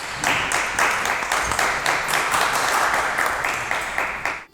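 A studio audience at an Eid show in Lahore applauds a singer, brisk lively clapping with rhythmic surges that holds strong, then cuts off abruptly at the end.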